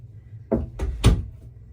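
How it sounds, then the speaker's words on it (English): An interior door is pushed shut in a home, giving a few quick, close thuds over about a second as it swings and latches, the last knock the loudest, with no talking. "Gotta make sure I close the door all the way so you can't hear the sound."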